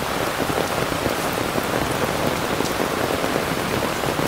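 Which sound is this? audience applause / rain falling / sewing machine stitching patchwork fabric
rain falling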